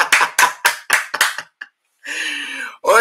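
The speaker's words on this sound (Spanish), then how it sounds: "Aplauso para la bombón ahí." Several sharp claps in quick succession, then a sustained bright tone and a voice starting up at the end.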